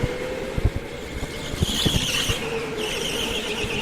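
K1Speed go-kart accelerating out of a turn on an indoor track, a buzzing engine drone with brief tire squeal and scattered knocks, close and loud, no talking.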